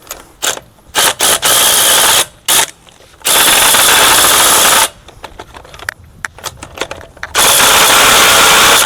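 A power tool, likely an impact wrench, loosens wheel lug nuts with a 21 mm socket during brake work, loud bursts of rattling hammering separated by short pauses, close by.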